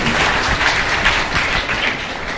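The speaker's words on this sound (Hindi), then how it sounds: "जोरदार तालियां सभी की बात" Dense, steady applause from an audience at a talent award ceremony hosted by a legislator, loud and close, running without pause as a continuous wash of clapping.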